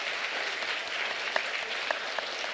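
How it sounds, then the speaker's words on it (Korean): A church congregation claps warmly to welcome new members during a Sunday worship service, a dense, even wash of applause that continues without a break. "인사할 때 큰 박수로 환영해 주십시오."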